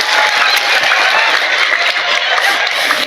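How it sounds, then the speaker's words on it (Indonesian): A women's religious gathering audience bursts into dense, continuous applause, a bright wash of many clapping hands sustained evenly throughout. "Tepuk tangan maning ora apa-apa."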